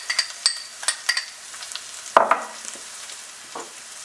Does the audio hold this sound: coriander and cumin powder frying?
yes